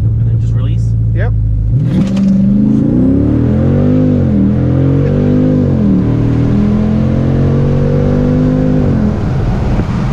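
A Jeep SRT launches under launch control, engine surging from idle into a loud rising rev with gear shifts, heard from inside the car as people talk briefly at the start.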